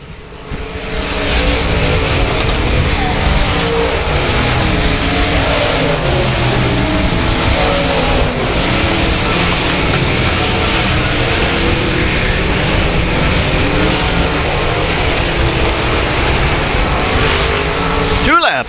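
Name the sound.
race cars racing at South Texas Speedway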